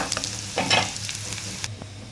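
Hot oil tempering with dried red chillies sizzles and crackles in short bursts as it is stirred into a pot of lentils, close up with no talking.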